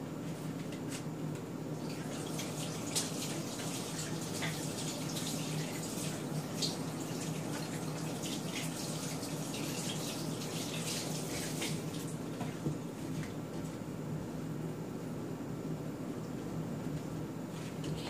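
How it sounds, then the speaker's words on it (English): A kitchen tap runs in a steady, close stream while hands are washed under it, giving a continuous splashing rush with faint wet squishes and no talking. "I'm going to wash my hands"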